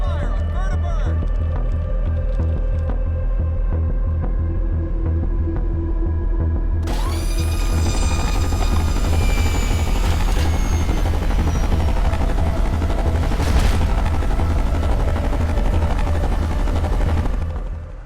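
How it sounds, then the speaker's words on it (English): Loud, sustained gunfire aimed at a Vertibird aircraft in Fallout New Vegas, a dense throbbing rattle over a constant low rotor drone, intensifying midway and running nearly the full length. "Opening fire on Vertibird!"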